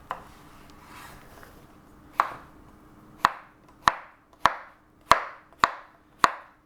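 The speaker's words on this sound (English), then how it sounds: "And then I just cut them into little cubes." A knife chops a zucchini into small cubes on a board, giving a steady series of about seven sharp, close, evenly spaced cuts after a quieter start of rubbing and handling.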